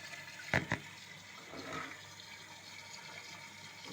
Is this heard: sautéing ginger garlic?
no